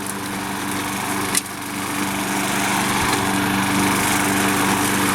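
A Craftsman 6.75hp lawn mower in forward gear cuts a suburban lawn, its steady engine drone loud and close, with one brief sharp knock early on before the mowing sound runs on unbroken. No one speaks.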